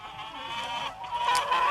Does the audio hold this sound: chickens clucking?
yes